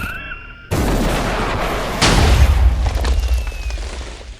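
Iron Man's unibeam fired in the Minecraft Superheroes Unlimited mod: a sudden loud charge-up burst that swells into a deep rumbling boom, then a sustained roaring blast that trails off.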